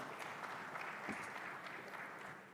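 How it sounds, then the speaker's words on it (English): Applause from an audience at a Tanzania–Singapore business forum, a faint, steady patter of many hands clapping, heard from a distance. "give a bigger round of applause to Excellencies for their candid remarks"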